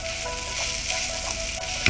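A mashed potato kachori filling fries on a low flame, giving off a soft, continuous sizzle with faint stirring scrapes and a small clink near the end. It is heard alone, with no talking.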